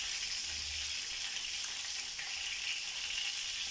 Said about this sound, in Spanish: el hígado ligado ya se está cocinando